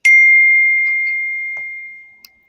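A single bright notification chime rings out alone, a clear tone that decays slowly over about two seconds, followed by a small click.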